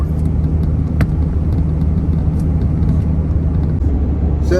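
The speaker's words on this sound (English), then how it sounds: "we're in the big truck right now, heading down the road" A big U-Haul rental truck drives down a Florida road, its engine hum and road rumble steady and loud from inside the cab, with a couple of faint clicks and no talking.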